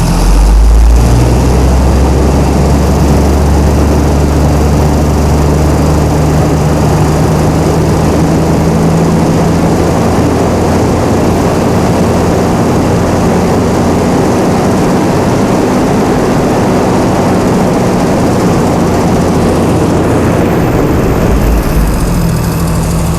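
Chrysler Slant 6 inline-six generator engine fitted with Holley Sniper EFI runs steadily near 1800 rpm, a loud continuous close-up drone with a low throbbing rumble that holds unchanged from start to finish.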